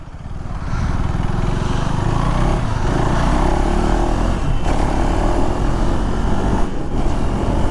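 A 2025 KTM 390 Adventure motorcycle accelerates hard, its loud, close engine note holding a steady buzzing drone throughout with small shifts in pitch.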